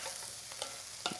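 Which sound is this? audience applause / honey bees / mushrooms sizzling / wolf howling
mushrooms sizzling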